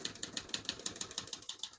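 Keys strike on a 1968 Olivetti Lettera 32 portable typewriter in a quick, even run of about a dozen crisp clacks, close and fairly quiet, with no voices.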